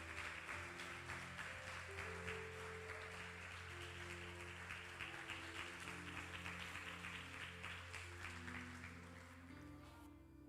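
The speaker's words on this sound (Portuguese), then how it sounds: "aplauda Ele bem forte" A church congregation claps loudly in praise while sustained organ or keyboard chords play beneath, the applause steady and dense before slowly tapering toward the end.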